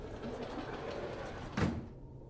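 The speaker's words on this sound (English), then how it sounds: "The sound of the sliding glass door wrenching open nearly makes me jump out of my skin" A sliding glass door in a video game wrenches open with one sharp, loud burst, rising abruptly out of a steady low ambient hum and fading quickly into quiet.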